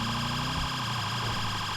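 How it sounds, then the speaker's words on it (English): Police car siren in the FiveM video game, a Met PD emergency-lighting siren tone that sweeps and shifts pitch partway through, loud and continuous with no talk over it. "hopefully you enjoy using the new sirens"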